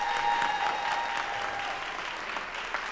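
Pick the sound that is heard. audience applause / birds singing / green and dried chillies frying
audience applause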